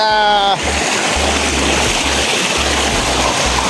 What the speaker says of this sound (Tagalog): Magandang ilog po, napakalinaw, no?